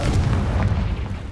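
A Confringo spell explosion in the Hogwarts Legacy video game, heard as a loud, heavy boom with a sustained low rumble that fades slowly over about a second.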